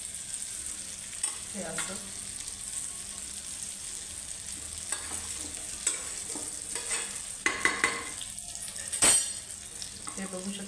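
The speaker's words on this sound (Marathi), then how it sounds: "दुसऱ्या बाजूने परत असं पलटवून घ्यायचं।" Food flipped and frying in a pan, a steady sizzle with intermittent scraping and utensil clinks, louder bursts toward the end, with brief speech in between.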